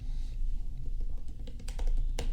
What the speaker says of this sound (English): In the terminal, type npm run build and press enter.